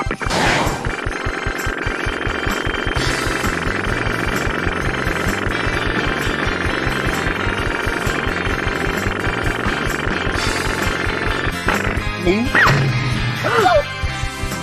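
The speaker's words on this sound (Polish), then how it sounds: "Czy tylko mnie bawi dźwięk tej rakiety, która w ogóle nas tutaj atakuje?" In the PS1 game Croc: Legend of the Gobbos, an attacking rocket makes a loud, continuous, rattling and whooshing drone over busy game music, with a few sharp whistles and crashes near the end.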